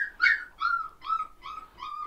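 Rottweiler puppies whine and whimper in a series of five high, drawn-out cries, each a second or less, close and fairly clear in a quiet room.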